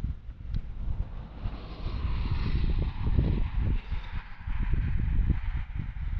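Wind buffets a microphone during a drone flight, giving a continuous low rumbling gusty roar that swells and eases without pause, loud and close.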